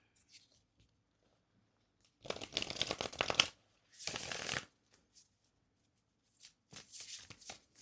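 An oracle card deck is shuffled close by in two quick riffling bursts, then a pause and a few lighter shuffles and taps of the cards, with no talking.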